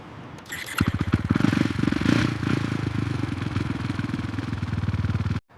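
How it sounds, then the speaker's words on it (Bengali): A KTM Duke motorcycle engine runs with a steady, throbbing mid-pitched drone up close, with some clatter, before stopping abruptly at the end. "আমার নতুন KTM ডিউক বাইক এখন চালাচ্ছি আমি"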